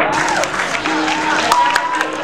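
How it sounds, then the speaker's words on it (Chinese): Wedding guests clap as the groomsmen and bridesmaids make their entrance, a moderate patter of applause from a crowd across a short burst, with a voice talking over it and music faintly behind. "这个掌声好像有点不太热情哦"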